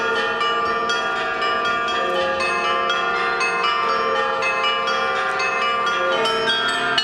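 Church bells ring steadily in Kyiv, a dense, continuous peal of overlapping tolls with rich ringing overtones, loud and close, with no voices.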